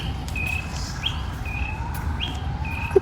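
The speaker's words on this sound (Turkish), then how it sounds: "Bu kuş sesi nereden geliyor?" Birds chirp repeatedly in short, high tweets and rising calls, fairly near, over a steady outdoor background hum, at the Abdülmecid Efendi Pavilion in Üsküdar, Istanbul.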